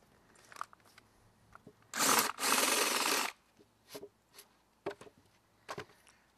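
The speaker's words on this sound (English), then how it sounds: "we drill our first pilot hole, 1/4-inch, and then we get a flare countersink bit" A power drill with a 1-inch flare countersink bit bores into wood for a low-voltage lighting transformer stand, giving one loud, steady burst of about a second amid faint clicks and handling noises.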